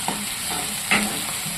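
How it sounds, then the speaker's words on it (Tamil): Oil sizzles steadily in a pan while a utensil stirs, with a brief louder hiss of curry leaves frying near the end, close up. "கருவேப்பிலை இலைகளையும் எண்ணெயில் நல்லா வதக்கி கொடுத்துருவோம்"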